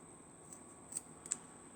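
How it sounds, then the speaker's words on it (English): Scissors cutting excess paracord off a bracelet, a few faint crisp snips at irregular intervals over a steady high hiss. "Cut the excess cord off."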